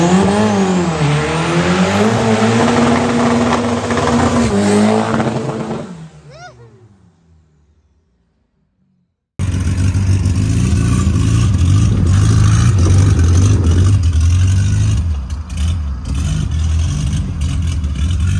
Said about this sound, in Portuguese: Chevette turbo com o motorzinho de Chevette mesmo, fica muito da hora